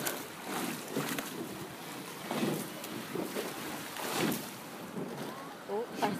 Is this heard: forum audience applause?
no